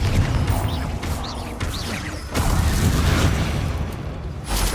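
Confringo blasting spell explosions in a Harry Potter video game: several loud, booming blasts and crashing impacts, one after another, close and heavy, with a voice calling out between them.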